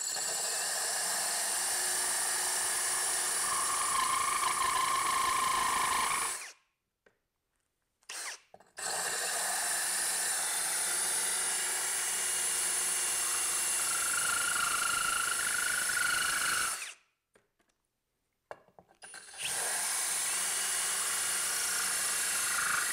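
A loud, close power drill grinds steadily into wall tile in long bursts, stopping twice briefly before starting again, with no talking.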